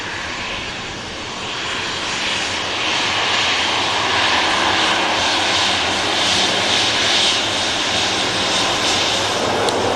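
A Finnair jet airliner takes off at an airport, its engines building into a loud, broad roar that swells and holds steadily, without any talk.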